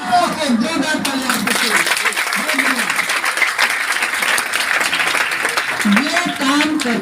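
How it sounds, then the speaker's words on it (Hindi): Loud, dense audience applause from a large crowd, sustained for several seconds, with voices talking and calling over the clapping at the start and end. "जोरदार तालियां।"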